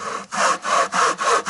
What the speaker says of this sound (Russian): Это российская пила.